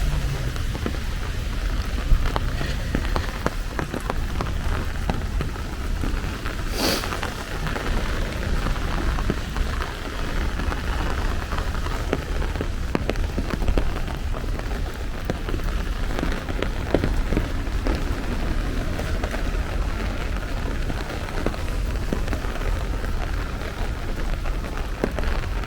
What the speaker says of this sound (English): Rain sounds like it's getting a little heavier right now.